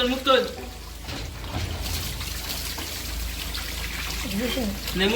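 Water poured over a person's head, a steady trickling, splashing flow running throughout at close range while people talk over it.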